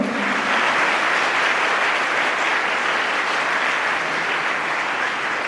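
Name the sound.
audience applauding medal-winning students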